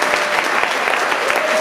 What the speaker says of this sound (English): Over 50, clap now, please.